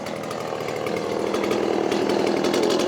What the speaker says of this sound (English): It's a big chainsaw you got there.